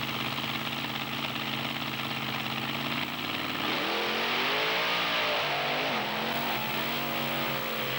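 Ford monster trucks Nightmare and Bigfoot race side by side on beach sand at Wildwood, New Jersey in 1995, big engines roaring loud and continuous, revving upward mid-run as they power across.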